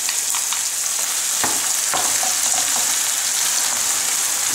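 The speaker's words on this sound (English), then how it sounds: "Add the heavy cream, cooking cream, panna in Italian." Heavy cream is poured into a pan of pasta and bacon on low heat, giving a steady, bright sizzle with a couple of brief clicks and scrapes partway through.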